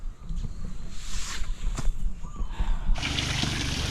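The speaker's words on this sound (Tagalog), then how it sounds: "Lagyan natin tubig yung mga drum dito." Water running into plastic drums, a hissing splashy pour that swells and then settles into a steady rushing stream near the end.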